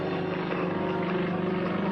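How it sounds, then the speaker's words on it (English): Aerobatic propeller airplane with a 365 horsepower radial engine at an air base open house, a steady droning roar heard continuously at moderate distance. "Tiny radial engine cranking all that horsepower."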